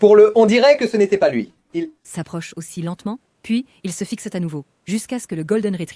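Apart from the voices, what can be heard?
No everyday noises stand out.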